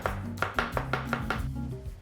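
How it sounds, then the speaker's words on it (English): A knife chops onions on a cutting board in a home kitchen, roughly seven sharp, evenly spaced knocks up close, then a softer tail with no talking. "and give it a good chop"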